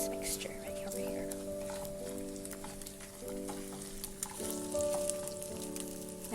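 Cumin seeds, black seeds and bay leaves frying in a tadka for dal, a soft continuous sizzle under sustained background music with steady tones.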